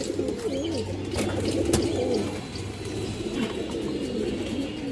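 Pigeons coo in soft, repeated warbling phrases, close by and steady, among khaki and other fancy pigeons kept for sale, including a khaki hen; faint chirps and background noise sit underneath.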